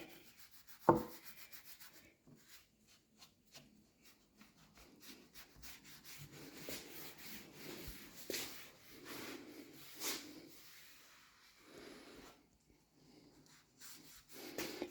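A folded cloth wipes excess finish off a restored wooden window seal, giving soft, intermittent rubbing strokes with quiet pauses between passes and one sharp knock near the start.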